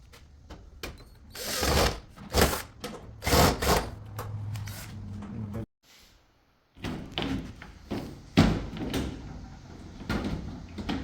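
Screws being driven to fix the top cover of an Ariston clothes dryer during repair, heard as a run of close, loud knocks, clacks and brief tool bursts with a short quiet gap midway.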